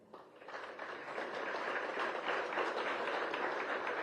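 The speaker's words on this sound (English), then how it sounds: "A big round of applause" An audience applauds at a governor's felicitation ceremony for a commander, with clapping that swells within the first second into a sustained, even roar of many hands, heard at moderate distance.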